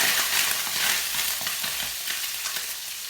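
Turkey rashers sizzling in a pan on an electric cooker at medium heat, a steady close frying hiss with light stirring scrapes and no talking.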